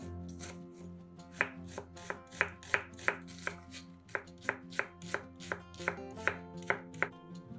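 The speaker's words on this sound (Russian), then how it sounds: "Одну большую луковицу нарезаем кубиками." A knife dices a large onion on a board, with steady, sharp chops in a quick, even rhythm, close and distinct against a soft musical background.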